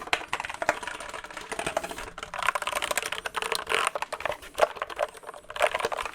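Steady, brisk clacking of keys on a wired mechanical keyboard with a Mac layout and an orange escape key, close and continuous with small pauses, no voices.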